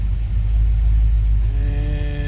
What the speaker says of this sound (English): right now it's idling in my garage